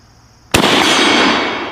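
A Mauser M1898 rifle fires at a steel target, one loud, sharp report that bursts abruptly and rings out with a long, bright decay, with no voices present.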